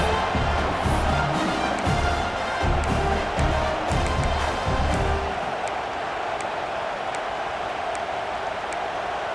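Stadium crowd noise in the college football game EA Sports College Football 26, a loud continuous roar of cheering fans with rhythmic bursts early on that settles into a steady wash, no talking.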